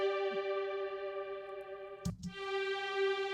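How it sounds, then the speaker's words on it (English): String ensemble sent through Valhalla Vintage Reverb on the Tyrell Hall setting, a steady sustained chord with a rich wash of long hall reverb, briefly broken by a short bump before the chord resumes. "and it'll be all-encompassing reverb"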